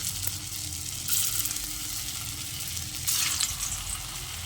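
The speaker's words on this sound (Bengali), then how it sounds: "তারপর যে কোপ্তাগুলো গড়ে রেখেছিলাম সেগুলো এর মধ্যে দিয়ে দিচ্ছি।" Kofta balls fry in hot oil in a kadai, giving a steady close sizzle that surges twice into louder crackling bursts.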